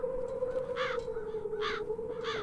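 Crows cawing in the fantasy adventure game The Dark Eye: Chains of Satinav, three harsh caws spaced evenly over a low steady hum, fairly distant and without talk.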